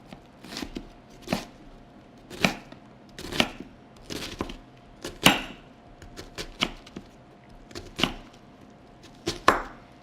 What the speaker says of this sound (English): Go ahead and take the knife, and we will chop down on the knife.